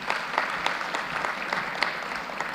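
Loud applause from a conference panel audience greeting a UNDP representative, continuous dense clapping with sharper individual claps standing out throughout.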